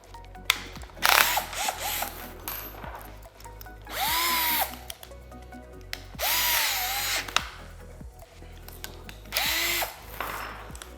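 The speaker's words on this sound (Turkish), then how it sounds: "istediğiniz kadar matkabla delebilirsiniz" An electric drill whines in repeated bursts, each rising and settling as it bites in, with pauses and clattering between runs, close and loud.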